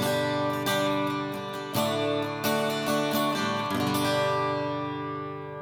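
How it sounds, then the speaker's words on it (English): HyVibe smart guitar with its onboard reverb switched on: strummed chords with several quick attacks ringing into a lush, lingering tail that fades out at the end, close and clear with no talk. "So there you are, nice lush reverb, which just fills the room."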